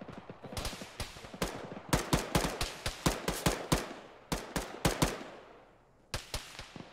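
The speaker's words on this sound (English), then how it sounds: "they're firing at us!" Enemy gunfire in the Arma military game, rapid close bursts of sharp shots in uneven clusters, loud and with brief pauses between volleys, no talking over it.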